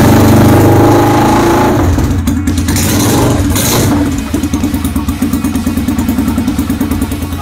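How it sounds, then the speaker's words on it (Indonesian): A motorcycle with a short stainless steel exhaust revs loudly up close with a harsh, crackling exhaust, then drops back to a rough, pulsing idle. "Kalau stainless sekelas knalpot pendek begini udah dipastiin suaranya akan ngeblar pecah banget."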